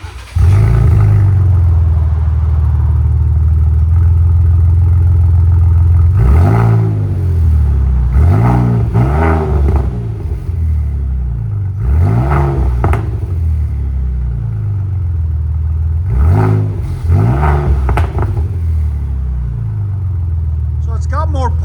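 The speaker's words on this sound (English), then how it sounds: "This is with the valves open. Valvetronic designs on a Ford Raptor," Fully built Ford Raptor with Valvetronic exhaust, valves open, idling in a deep steady rumble and then rising through a string of short throttle blips, about six or seven sharp revs spaced a second or two apart, loud and close.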